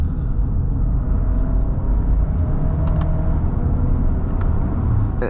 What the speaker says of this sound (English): I guess I could attempt to show you guys the paddle shifters, very quick downshifts.